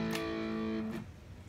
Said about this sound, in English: This is a, it's a distortion micro.